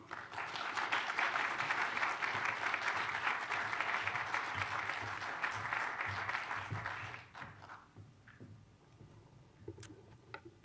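An audience applauds to welcome lecturer Kim Phillips Fein at a talk, a sustained, even wash of clapping that fades out after about seven seconds into a quiet room with a few stray claps and small sounds.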